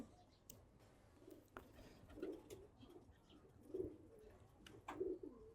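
Racing Giribaz pigeons coo softly three times at a steady interval, low murmuring calls over a faint outdoor background.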